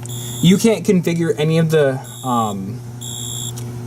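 Wheelock fire alarm system sounding tone pulses, steady high beeping bursts that come and go across the clip, mostly under someone speaking close by.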